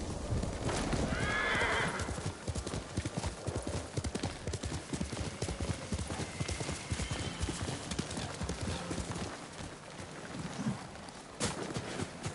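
Horse hooves galloping in a steady clip-clop rhythm with a sharp neigh early on, close and loud over ambient outdoor noise, from the horse Kage in the video game Ghost of Tsushima.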